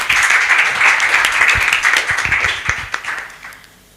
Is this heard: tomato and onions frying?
no